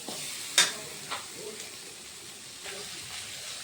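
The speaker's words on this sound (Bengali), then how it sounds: "মশলাগুলো দেওয়ার পরও একটু আমি কষিয়ে নিচ্ছি" Spices sautéed in a pan over a medium gas flame: a faint low sizzle with a few scraping stirs and clinks, quiet and close.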